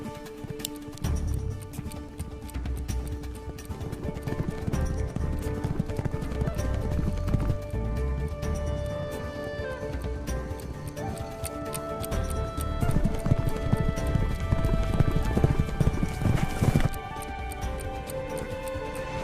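Hooves of a young racehorse pound rhythmically as it gallops along a mile-and-a-half oval track, a steady clip-clop beat running throughout under a layer of music, with a brief neigh.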